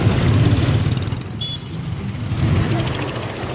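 Busy Ho Chi Minh City street traffic, a steady close wash of car and motorcycle engines rumbling past with a brief higher tone midway, loud and unbroken throughout.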